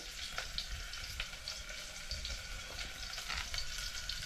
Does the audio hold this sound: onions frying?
yes